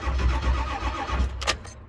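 A Ford E-450 van with a 7.3 Powerstroke diesel that has engine problems cranks on a jump start, giving a steady, rhythmic churning starter drone up close that never catches, ending in a brief burst of noise.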